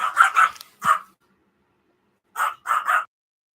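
A dog barks sharply and nearby in two bursts, three quick barks, a pause of over a second, then three more, with silence in between.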